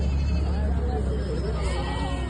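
Goats bleat at a large goat, sheep and poultry market in Maharashtra, a short bleat under loud crowd chatter and background noise.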